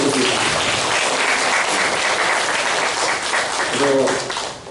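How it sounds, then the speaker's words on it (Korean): A church congregation breaks into loud, sustained applause, a thick wash of clapping hands held steady for several seconds, with a few voices rising briefly near the end before it eases off. "그래서 박수 한번 주시겠습니다."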